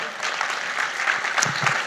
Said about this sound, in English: Big round of applause, right?